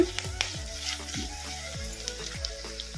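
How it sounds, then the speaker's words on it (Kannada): Green chillies frying in a pan, a steady close sizzle with repeated scraping stirs and clinks of a utensil against the pan. "ಈಗ ಮೆಣಸಿನ್ಕಾಯಿ ಫ್ರೈ ಆಗಿದ್ದಾವೆ"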